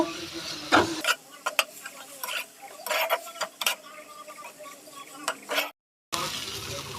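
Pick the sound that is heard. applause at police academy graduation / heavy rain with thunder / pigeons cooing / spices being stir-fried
spices being stir-fried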